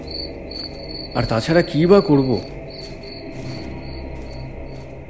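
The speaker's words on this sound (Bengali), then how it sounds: "আর মাঝে মাঝে ঝিঝি পোকাদের ডাক।" Crickets chirp in a steady, shrill pulse on a stormy, rainy night in a village, continuing under a brief burst of speech near the middle of the clip.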